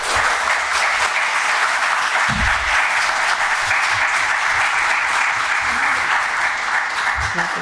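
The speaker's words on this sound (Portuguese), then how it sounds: "a qual eu peço uma grande salva de palmas" Loud, sustained applause rises from the audience at a municipal public hearing on health department accounts as a guest is welcomed, with the clapping dense and even for the whole stretch.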